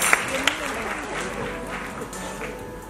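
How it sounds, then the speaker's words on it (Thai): An audience applauds the announcement of the Miss Supranational Thailand 2019 results, a soft, distant patter of claps with crowd murmur and a couple of sharper accents near the start. "ปรบมือกับผลของการตัดสิน Miss Supra National Thailand 2019ด้วยนะครับ"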